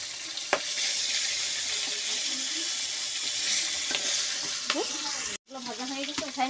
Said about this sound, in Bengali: এপিট ওপিট করে লাল লাল করে ভেজে নেব।